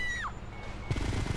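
Gunfire in GTA Vice City Stories, with low thumping shots arriving in a quick irregular cluster in the second half over steady game background noise.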